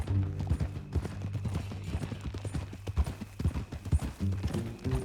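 Horse hooves clip-clop steadily in Red Dead Redemption 2, a rhythmic trot of muffled thuds at close range, continuing under a low background bed with faint voices.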